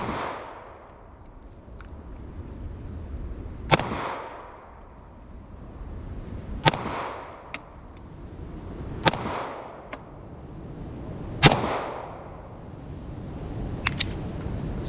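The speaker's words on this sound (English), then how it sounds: "So I'm gonna shoot on that bottom target from 10 yards with this" Pistol shots from a Ruger Security 9 firing Federal 124 grain FMJ at an outdoor range, five or six sharp, loud reports spaced a few seconds apart, each trailing off in a short echo, with no talk.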